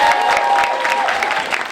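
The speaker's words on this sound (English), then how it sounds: "Let's give a big round of applause to Congresswoman Grace Meng." A crowd at a Great Neck Chinese Association unity rally applauds Congresswoman Grace Meng with steady, fairly loud clapping that carries on without a break.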